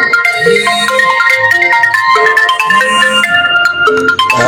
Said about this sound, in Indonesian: Siapa ini? Suaranya telepon siapa ini?